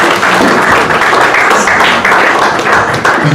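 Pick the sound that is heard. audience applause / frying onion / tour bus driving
audience applause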